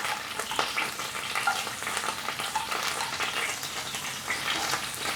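Garlic, ginger and carrots stir-frying in oil in a pan over high heat, a steady close crackling sizzle with stirring scrapes, no talking.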